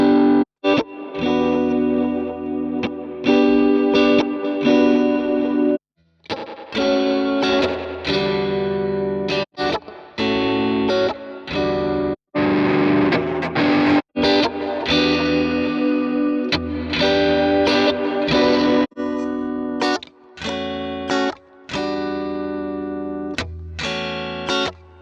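Electric guitar run through effects presets with distortion and chorus plays dense, loud, sustained chords and riffs with brief stops between phrases, close and continuous with no talking.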